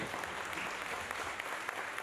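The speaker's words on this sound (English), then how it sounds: "A round of applause for the ladies." Faint audience applause at a business founders summit session, a brief steady patter of many hands clapping from a distance.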